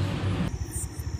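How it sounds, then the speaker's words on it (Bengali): Crickets chirp at night beside a hotel in Mainpat, a thin, steady high trill that stays faint against a low background rumble. "এই রাত্রিকালীন ঝিঝির ডাক"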